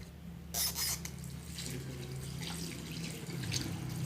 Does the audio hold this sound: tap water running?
yes